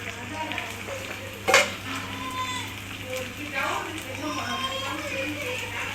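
Chopped onion and tomato with spice powder fry in a pan for a mutton liver gravy, giving a low continuous sizzle with one brief louder clatter near the start and faint background noise.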